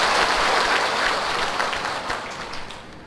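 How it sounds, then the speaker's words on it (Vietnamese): An audience at a Vietnamese Buddhist dharma lecture breaks into a big round of applause, dense clapping that starts loud and gradually tapers off. "kính mời đại chúng cho một tràng pháo tay thật lớn để tôn thỉnh giảng sư chủ dạy"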